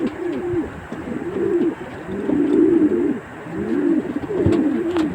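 Pigeons coo in repeated throaty phrases at close range, several rounds of soft rolling calls rising and falling over a quiet outdoor background, with no talking.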